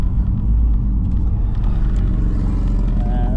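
Audi RS3 fitted with billet engine mounts, traction control off, its engine running loud and close with a steady deep rumble throughout the launch test.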